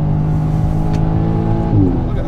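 A stock 2017 Audi S3 accelerates hard, its engine a loud, steady, close drone with layered hum that holds throughout and swells slightly near the end.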